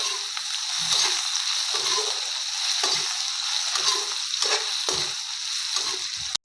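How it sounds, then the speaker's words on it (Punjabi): Okra sizzles steadily in hot oil over a full gas flame, a dense continuous frying crackle with periodic stirring scrapes roughly every second, close and fairly loud, no voices. "ਹੁਣ ਆਪਾਂ 2-3 ਮਿੰਟ ਵਾਸਤੇ ਇਹਨਾਂ ਨੂੰ ਫਰਾਈ ਕਰ ਲਾਂਗੇ ਤੇ ਗੈਸ ਦੀ ਫਲੇਮ ਆਪਾਂ ਫੁੱਲ ਹੀ ਰੱਖਾਂਗੇ"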